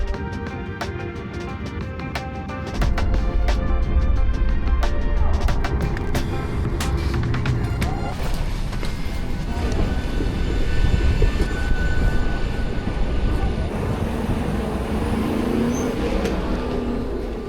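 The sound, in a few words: airplane landing at Dublin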